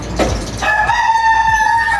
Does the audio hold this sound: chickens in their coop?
yes